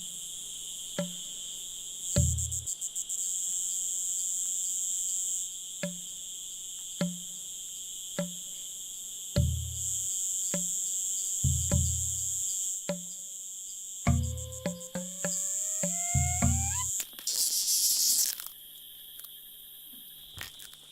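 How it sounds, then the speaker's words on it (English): Cicadas and insects sing in a Madagascar jungle, a steady high-pitched drone broken by repeated soft ticks and taps, with a burst of louder buzzing near the end; no voices. "the jungle echoes to the song of the cicadas"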